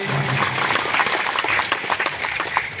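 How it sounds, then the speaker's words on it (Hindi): A crowd at a religious gathering claps loudly and steadily for a few seconds, a dense burst of applause with no talking over it. "जब ताली बजाइए जोर से बजा करिए, बोलिए शंकर भगवान जय"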